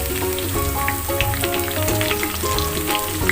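Onions frying in oil until golden brown, crackling in a dense, continuous sizzle close up, with faint tonal sounds in the background and no voices.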